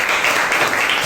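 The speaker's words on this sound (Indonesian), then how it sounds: "Berikan tepuk tangan" A crowd at the close of a discussion session claps in a brief, dense burst of applause that stays steady and loud for the whole moment, with no voices heard.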